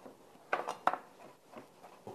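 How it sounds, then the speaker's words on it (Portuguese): A kitchen knife cuts through a tomato on a board during fish or pasta cooking, giving a few soft, close chopping knocks with light utensil clinks, fairly quiet with no talking. "Agora eu vou cortar esse meu tomate."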